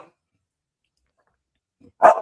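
A single dog bark rings out near the microphone after a long stretch of near silence, short and fairly loud, with a faint muffled sound just before it.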